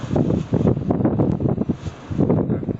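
Walton Krystaline air conditioner indoor unit blowing air with an uneven, pulsing whoosh, its plastic housing vibrating; a steady close rushing that swells and dips in waves, with no voices.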